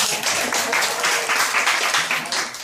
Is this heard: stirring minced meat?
no